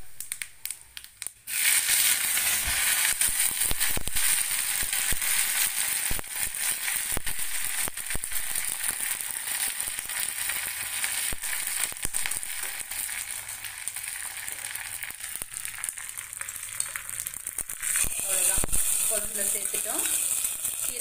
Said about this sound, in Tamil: நல்லெண்ணெயிலேயே வந்து நான் இன்னைக்கு தாளிக்கிறேன் வடகம் சேர்த்துக்கலாம்